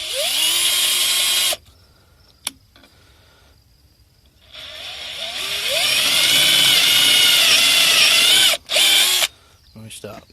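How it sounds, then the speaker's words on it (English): A power drill bores into barn timber to set holes for T plates, whirring loud and close in two long runs separated by a pause and a brief click, with a short sputter near the end. "You want to drill in about 1 inch, keeping our bit as square as we can with that"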